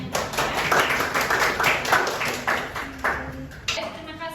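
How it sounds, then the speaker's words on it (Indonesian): A small class claps for a student tutor after a math lesson, scattered uneven claps close by in bursts that rise and fall, with a faint high tone running underneath. "Tepuk tangan dulu buat tutor kalian yang keren."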